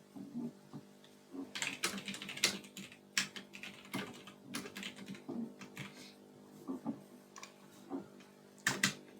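Rapid, steady typing of programming code on a computer keyboard, close and clear, with dense clusters of key clicks and brief pauses, no talking.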